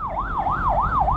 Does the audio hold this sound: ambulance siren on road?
yes